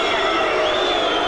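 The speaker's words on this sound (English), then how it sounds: "rubbish being thrown into the ring, the crowd booing" Boxing arena crowd reacting after a heavyweight bout ends in disqualification, with rubbish thrown into the ring: a dense, loud, continuous roar of many voices.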